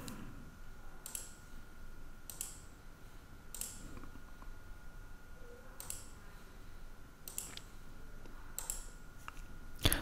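Computer mouse clicks while configuring static IP settings on a Windows domain controller: faint, sharp single clicks, about seven of them, spaced a second or more apart over a quiet room hum, with no speech.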